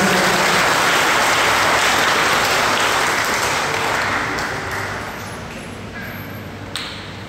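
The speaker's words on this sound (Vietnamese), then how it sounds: "Xin cộng đoàn nổ một tràng pháo tay" A Catholic parish congregation applauds to honor a priest's ordination anniversary, a loud, dense, sustained burst of clapping that slowly fades.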